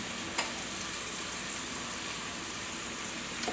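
A spatchcocked whole chicken fries in a pan with a steady, quiet sizzle that holds throughout, broken only by a couple of faint crackles and pops.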